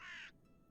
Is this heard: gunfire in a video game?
no